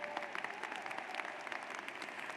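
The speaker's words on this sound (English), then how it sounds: "Now that deserves a round of applause." A university commencement audience applauds, a dense crowd of clapping hands filling the hall evenly from start to finish, moderately distant and without voices.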